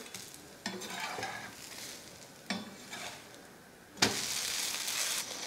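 A dosa frying on a hot griddle sizzles steadily while it is turned. Sharp scraping bursts from the spatula stand out, and the loudest flip comes near the end, followed by brighter sizzling.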